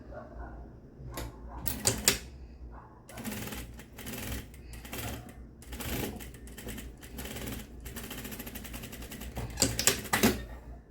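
Sewing machine stitching the lining and fabric of a tailored shorts fly, running in several bursts of mechanical whirring with pauses between, close and moderately loud.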